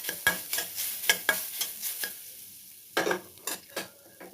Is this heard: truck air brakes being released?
no